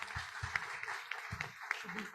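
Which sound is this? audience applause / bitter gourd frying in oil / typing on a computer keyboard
audience applause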